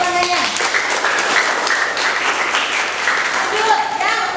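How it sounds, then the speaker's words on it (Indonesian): Audience of students applauding during a nursing lecture in a classroom, clapping at fairly high level mixed with chatter and voices talking over it throughout. "Oke, tepuk tangannya."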